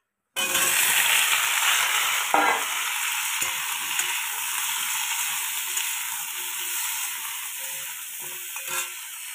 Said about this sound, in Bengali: পাঁচফোড়নটা ভাজা হয়ে গেছে, এবার আমি কলাগুলো দিয়ে দেবো